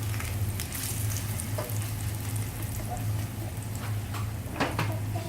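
Yuca patties fry in a skillet with a modest amount of oil over medium-high heat, giving a steady close sizzle with scattered crackles and soft utensil clicks throughout.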